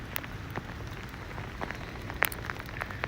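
Sleet and freezing rain fall on a New York City street in a steady hiss, with sharp ticks and pattering of ice pellets scattered throughout and no voices.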